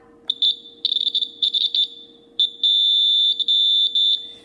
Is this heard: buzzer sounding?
yes